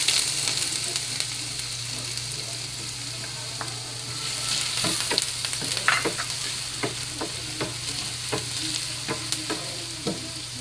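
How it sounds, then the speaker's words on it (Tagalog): Onions sizzling in hot oil in a pan for hotdog sisig, a steady frying hiss with repeated spoon or spatula stirring clicks, close and moderately loud, with no talk. "hintayin lang natin ng maluto ng konti ang ating sibuyas"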